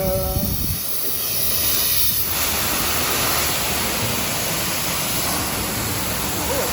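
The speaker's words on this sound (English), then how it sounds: "Let's try wash soap. High pressure." A high-pressure wand sprays soap at a self-service car wash in Las Vegas, giving a steady, loud, close hiss of rushing spray that runs unbroken with no talk.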